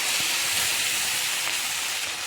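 Sliced onions frying in oil for a fish curry give off a loud, steady, broad sizzle and hiss that stays even the whole time, close up and with no voices.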